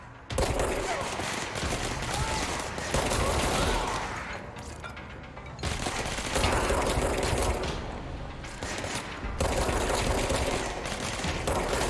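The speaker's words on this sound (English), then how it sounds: "Doesn't matter, we're getting shot at" Sustained automatic gunfire in the video game Control, loud bursts of rapid shots with brief mechanical clatter between volleys, continuing for several seconds in the foreground.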